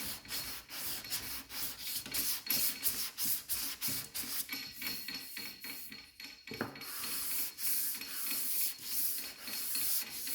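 A sanding block is pushed back and forth over the body of a 1963 Cadillac Coupe DeVille, a close, rhythmic rasping scrape in quick repeated strokes, with no voices.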